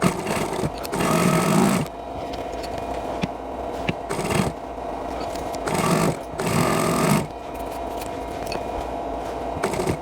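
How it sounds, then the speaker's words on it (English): A sewing machine joins quilt pieces in short bursts, with three or four loud runs of stitching separated by quieter pauses filled with fabric handling and small clicks. "we'll just sew them together"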